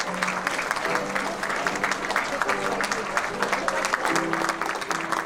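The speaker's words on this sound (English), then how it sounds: "Keep the applause coming" A graduation ceremony audience gives sustained, dense applause that fills the hall steadily, while a voice carries over the clapping.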